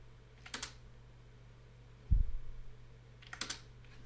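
Typing on a computer keyboard: a few sparse, soft key clicks spread over a few seconds, with one firmer tap in the middle, against a quiet low hum.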